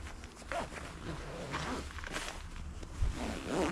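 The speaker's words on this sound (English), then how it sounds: "it zippers into this zipper on the neck here" A few short, raspy zipper pulls close up on a fishing float suit, attaching the hood at the neck, broken by rustling fabric and soft handling noises.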